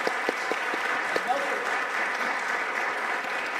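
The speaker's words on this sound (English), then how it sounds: "I think they deserve a beautiful round of applause." Audience applause at a sacred music concert, a dense steady wash of many hands clapping with a few sharper claps standing out, filling the whole stretch at moderate level.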